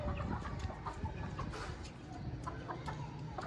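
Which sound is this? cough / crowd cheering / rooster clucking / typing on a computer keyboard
rooster clucking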